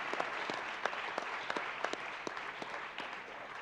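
Light, scattered clapping from a small audience at a Crash Bandicoot 2 speedrun event, individual claps distinct and fairly quiet, continuing for a few seconds.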